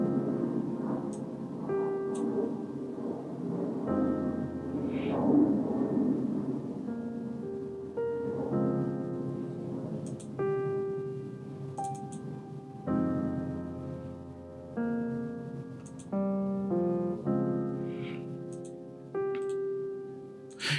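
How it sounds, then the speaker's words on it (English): Cinematic piano patch from the Keyscape virtual instrument, played as sustained chords with a melodic line on top for a deep tech house track. Notes ring out fairly loud and clear, with no voices. "I used the cinematic piano"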